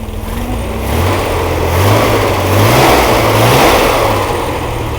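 A basket case 140 engine fires up on a test run, running loud and close with a steady rough drone that swells with a couple of revs, no voices.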